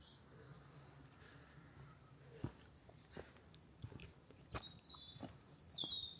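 A robin and a song thrush sing outdoors from the same direction, with high, thin phrases scattered through the clip and growing busier toward the end, above faint insect hum and occasional soft knocks.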